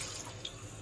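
Running tap water splashes steadily over trout being rinsed in a sink, a brief, even rush close by.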